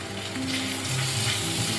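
Green chilli paste sizzling in a pan of frying onion masala for mutton liver, a dense close crackle with a faint stirring scrape and no voices.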